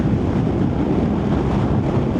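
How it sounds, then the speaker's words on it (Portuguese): Strong wind roars across the microphone while riding a BMW R1300GS motorcycle, a loud, continuous buffeting rush with no letup and no voices. "Nossa, mas que ventania que tá aqui."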